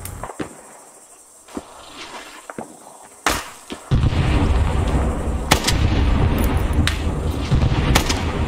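Artillery and gunfire in the video game SOG Prairie Fire, with scattered sharp gunshots and heavy booms at first, then a dense rumbling barrage of shots and explosions continuing loudly to the end.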